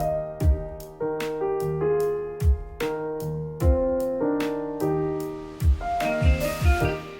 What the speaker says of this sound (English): When I first introduced the drums here, it has a really simple pattern. We just have our snare on 2 and 4.